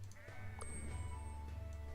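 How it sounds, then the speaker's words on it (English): Sheep in the video game Renowned Explorers bleat in a short, wavering cry over a low, steady background hum, faint and brief. "And now we're going to fight some sheep."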